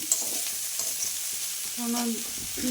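Pea leaf greens sizzle and crackle in a hot pan as they are stirred, a steady close frying hiss with occasional scraping.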